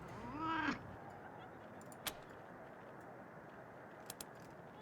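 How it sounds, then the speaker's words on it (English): A cat in the video game Wasteland 3 gives one short rising meow while being petted, heard near and alone over a faint game ambience, followed by a few soft clicks. "we found out you can pet a cat in this game"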